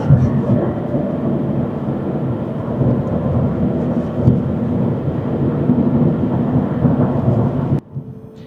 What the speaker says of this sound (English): let you hear the noise levels inside the cabin